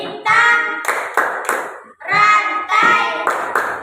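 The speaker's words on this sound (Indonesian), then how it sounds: "Saya akan mempraktikkan tepuk Pancasila." A child performs the Tepuk Pancasila clapping routine, sharp hand claps in a steady pattern ringing out between chanted words, close and loud.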